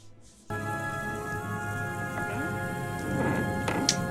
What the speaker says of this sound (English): You better soak up all that rain while you can, Bubba.